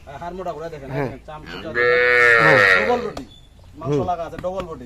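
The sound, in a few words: cow mooing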